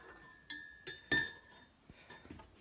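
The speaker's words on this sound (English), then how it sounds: "Just give that a bit of a stir around" A spoon stirs inside a cup, giving a few bright, ringing clinks against the side spaced irregularly over a couple of seconds, close and quiet with no speech.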